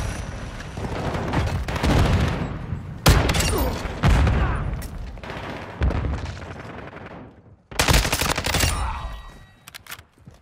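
Gunfire and explosions in Call of Duty: Modern Warfare II, with heavy booming blasts and bursts of rapid shots in several loud waves, including one that follows a thrown semtex grenade, separated by short lulls.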